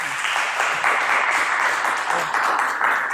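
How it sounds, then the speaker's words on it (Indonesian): Students in a mechanical engineering classroom clap together to lift their energy, a loud, dense, steady burst of applause filling the whole stretch with no talk. "Tepuk tangan dulu biar semangat."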